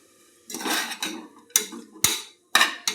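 A spoon scrapes and clinks against a pan while carrot halwa with cardamom and dry ginger powder is stirred and sautéed, giving a few close, sharp metallic knocks with short scraping sounds between them and no talking.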